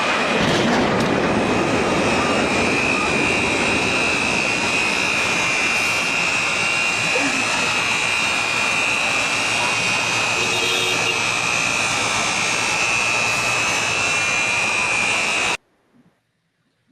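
Jet airliners roaring loudly from a played recording of the 9/11 attacks, a sustained heavy engine drone with a high whine, cutting off abruptly near the end.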